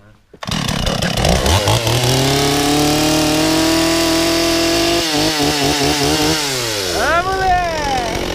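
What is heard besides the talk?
chainsaw revving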